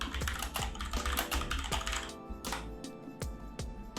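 Quick, rhythmic clacking comes from a computer keyboard as a search phrase is typed, with dense keystrokes close and clear and no other sounds.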